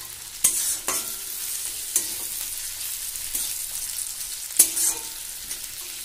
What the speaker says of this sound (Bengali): পেঁয়াজগুলো একটু ভাজা ভাজা হয়ে গেলেই দিয়ে দেবো দুটো ছিঁড়ে নেওয়া কাঁচা লঙ্কা।